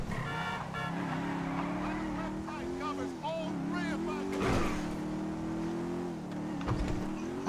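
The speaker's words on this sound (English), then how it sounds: "That's a monster fucking bike you riding" A heavy 140-cubic-inch motorcycle in the video game GTA 5 drones and revs with a rising and falling engine tone, steady and prominent throughout, while people talk over it.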